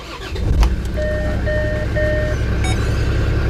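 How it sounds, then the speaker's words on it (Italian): A Land Rover Discovery Td5 diesel engine runs steadily after starting during an oil and filter service, with a loud, continuous low rumble and a few brief warning beeps over it. "accenderò l'auto per un minutino"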